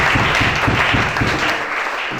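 A church congregation bursts into loud, dense clapping that continues steadily and then eases off slightly toward the end, with no voice heard over it.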